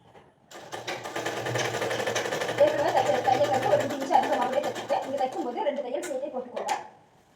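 A sewing machine runs in one continuous stitching burst of rapid, even mechanical clatter at close range, starting and stopping cleanly while someone speaks over it.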